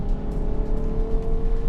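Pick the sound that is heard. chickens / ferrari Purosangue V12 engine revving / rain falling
ferrari Purosangue V12 engine revving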